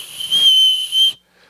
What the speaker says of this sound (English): it has a whistle already built into the knife